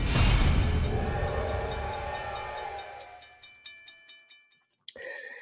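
A train rumbles loudly, then fades through a series of rhythmic clacks and tones into silence, ending with a sharp click and a new sound.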